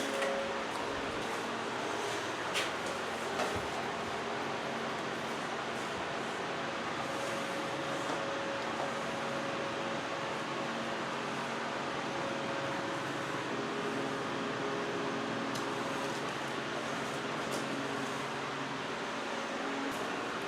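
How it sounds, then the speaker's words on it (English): A dehumidifier runs in a bedroom under remodel with freshly painted walls, giving a steady, even broadband whir with a faint tonal hum and occasional light clicks nearby. "Just plug the dehumidifier back in."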